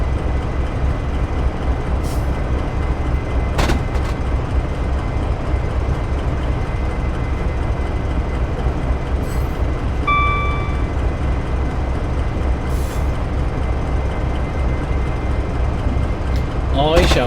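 A BR Class 70 PowerHaul diesel locomotive hauling coal in Train Simulator, with a steady, loud engine drone and rolling rumble that runs the whole time, plus a few brief clanks and a short tonal squeal.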